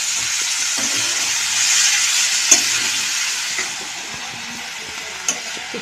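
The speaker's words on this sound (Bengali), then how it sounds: "কিছুটা পেঁয়াজ ভাজা হয়েছে" Onions fry in a pan with a steady bright sizzle while a utensil stirs and scrapes, with occasional louder clinks against the pan, all close up.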